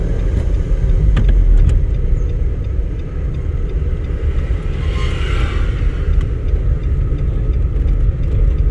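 A car engine running in second gear during a driving lesson, a loud, steady low rumble that carries through the whole stretch, with a brief faint rise in road noise midway and no voices.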